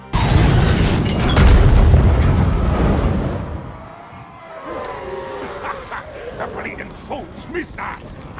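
A burning wagon explodes in a fantasy battle scene, a loud, deep rumbling boom that lasts several seconds and then fades into quieter crackling and scattered battle noise.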